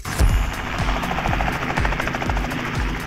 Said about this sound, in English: riding in a helicopter